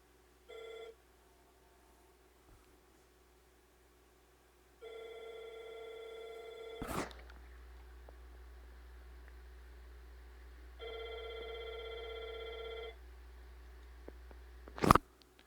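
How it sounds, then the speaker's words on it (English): A telephone rings indoors during a card game: two short bursts of electronic ringing with quiet gaps between, moderately loud, with sharp clicks and no speech. "That's the phone going off."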